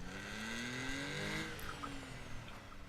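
Car driving in the Notmycar battle royale game, a steady engine hum with gently rising and falling pitch, fairly quiet and continuous, with a faint squeal near the end.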